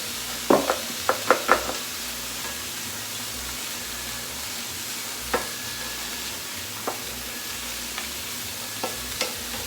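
Frozen vegetables sizzle in a hot pan with a steady broadband hiss, and a few sharp utensil clicks cluster near the start before sparser taps later on.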